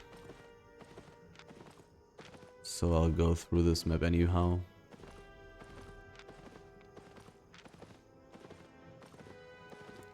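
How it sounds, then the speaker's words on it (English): A horse's hooves clip-clop in a fast, steady rhythm in the Albion Online video game, running throughout at moderate level, with someone briefly talking over them partway through. "I have a gallant horse"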